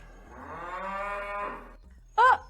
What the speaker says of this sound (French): C'est une vache.